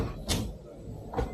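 A pantry door inside an RV coach at the 2025 Quartzsite RV Show opens with a soft knock and then a second light thump about a second later, close and quiet.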